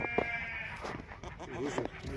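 Purebred goats, including pregnant does, bleat several times nearby on a farm while someone talks over them.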